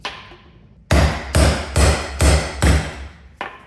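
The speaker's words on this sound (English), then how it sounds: "I am using an extremely blunt chisel for this job, which I have deliberately made flat for occasions like this." A hammer strikes an extremely blunt, flattened chisel against a rotted part near the fuel tank of a neglected Vauxhall Calibra: about six loud, close, evenly spaced metallic blows after a quiet start.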